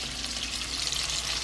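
Onions and minced garlic frying in a pan, a steady, even hiss of sizzling that holds without a break and with no voices.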